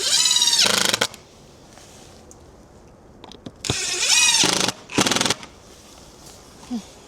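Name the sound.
screws being fastened into a garden shed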